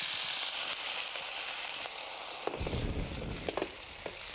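Crayfish with onions and garlic sizzle in a pan, then are flambéed with Eau de Vie de Marc de Champagne. A steady low hiss gives way midway to a sudden roaring whoosh with crackling pops as the spirit ignites.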